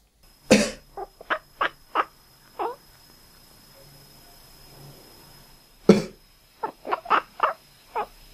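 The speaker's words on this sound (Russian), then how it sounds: "Когда я кашляю, мой кот квакает." A person coughs twice, and each time a cat answers with a short series of croaking, frog-like calls, close and clear in a quiet room.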